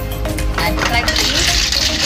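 A spoon stirs food in a cooking pot holding a spicy rica-rica dish with simmering liquid, giving scraping, clinking metal sounds and soft sloshing close by, under a voice.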